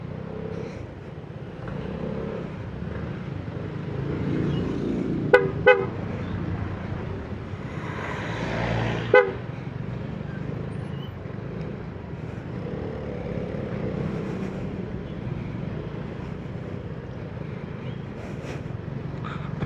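Car traffic on a rainy road heading toward Camp John Hay, a steady low rumble of vehicles with a few short horn toots standing out, moderately close and with no talk.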